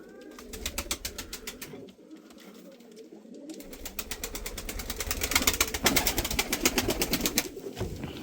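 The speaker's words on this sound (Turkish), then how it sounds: "Mardin'in eski kuşları değil mi Murat abi? Evet Mardin'in eski kuşları bunlar." Old-breed Mardin pigeons, including ringed-neck birds, cooing in soft repeated calls, accompanied by a rapid mechanical clatter that builds in loudness toward the end.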